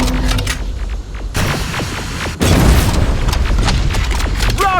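Rocket explosions in Terminator Resistance: heavy booms strike in quick succession, two sharp blasts landing about a second apart, with crackling debris and gunfire-like rattling over a loud rumbling battle backdrop.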